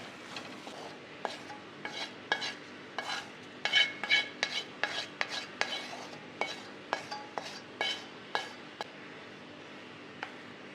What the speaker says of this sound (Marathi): हे असं पीठ चांगलं गुलाबी होईपर्यंत भाजायचं